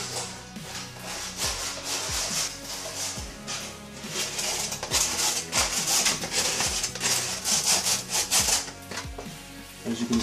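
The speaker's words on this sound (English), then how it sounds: "I'm just about to sand down the edges to give it that extra little curvy finish and take away the sharp edges" Cut edges of a plastic Xbox One console case being sanded smooth, producing a steady, close, continuous rasping scrape that keeps going with slight swells in intensity.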